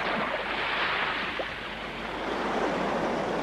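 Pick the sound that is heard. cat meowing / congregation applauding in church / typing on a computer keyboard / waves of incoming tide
waves of incoming tide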